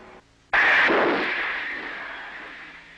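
A torpedo is launched from a US nuclear submarine during a firing exercise. The launch is a single loud, sudden whoosh-like burst that slowly decays over a few seconds.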